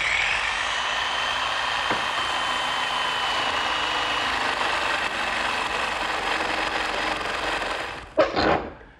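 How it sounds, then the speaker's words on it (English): Handheld jigsaw fitted with a metal-cutting blade saws through aluminum angle, a steady loud buzzing rasp that runs almost unbroken for about eight seconds before stopping with a few brief clattering knocks at the end. "I'm going to make this cut first, just using my handheld jigsaw and a metal cutting blade"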